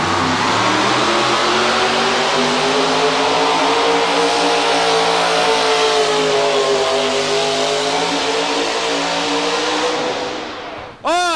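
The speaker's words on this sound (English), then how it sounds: "Here comes Bob Smith in the Chevrolet." A Chevrolet four-wheel-drive pulling truck roars at a 1990 truck pull in Louisville, Kentucky, its engine holding one loud, sustained howl with steady pitch for about ten seconds before a sharp rising rev at the end.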